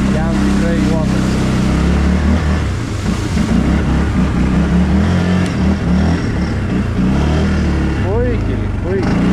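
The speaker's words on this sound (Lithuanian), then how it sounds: "Šitas keturratis yra gana aukštas, vienas iš aukštesnių 500 kubikų kategorijoje." A tall 500cc 4x4 ATV quad bike in a forest, its engine droning steadily with revving swells as it pushes through a stream, loud and close, while people talk over it throughout.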